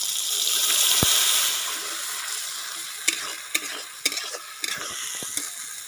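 Chopped tomato and spice batter for shol fish curry hit hot oil in a loud gush of sizzling that settles, followed by a few sharp spatula clicks against the pan.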